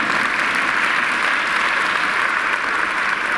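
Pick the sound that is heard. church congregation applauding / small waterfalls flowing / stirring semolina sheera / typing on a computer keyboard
church congregation applauding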